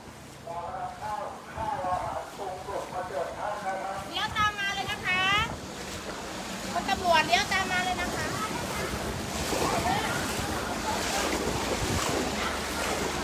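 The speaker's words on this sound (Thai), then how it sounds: "โอ้ อันนี้น้ำมันไหลมาค่อนข้างแรงเนาะ เพราะตอนนี้เรากำลังเดินสวนกระแสน้ำนะคะ" Strong floodwater current rushes through a flooded village in Kalasin, Thailand, as people wade against it. The water makes a steady, close, broadband rush with wind buffeting the microphone, and voices talk over it.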